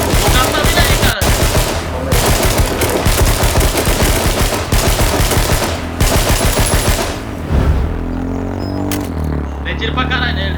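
Rapid automatic gunfire from the battle royale game H1Z1 rattles in dense continuous bursts, loud and close, dropping to a quieter rumble near the end.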